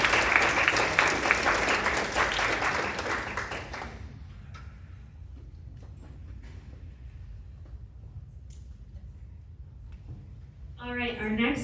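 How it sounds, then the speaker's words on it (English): An audience at a pitch competition claps loudly for about four seconds, then the applause cuts off into a quiet room with faint scattered sounds before a voice begins. "Let's give them a round of applause."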